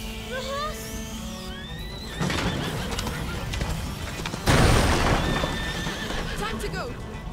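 Horse in the video game A Plague Tale: Innocence whinnies repeatedly with shrill rising neighs amid hoof clip-clops, crashing impacts and tense music, while characters shout over it.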